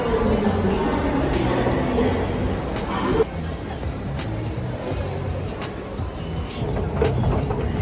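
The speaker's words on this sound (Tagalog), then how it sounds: "Sakay lang kami ng train." Steady rumble of a Singapore train carriage in motion, with a continuous low hum and rattle throughout and voices chattering faintly in the background.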